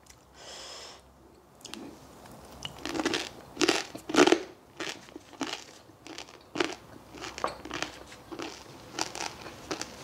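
Crispy air-fried pork belly skin crunching between the teeth, a run of sharp close crackling bites and chews that come in irregular bursts, with no talking.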